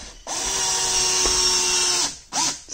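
Power drill driving screws into a template while framing a first interior wall in a house build, one long sustained whine of nearly two seconds followed by a short second burst, close and loud.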